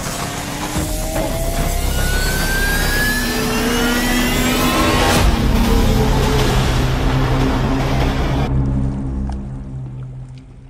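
A boat engine on Upper Kachura Lake in winter drones loud and close and holds steady for several seconds, with whooshing water and wind noise, before cutting off near the end.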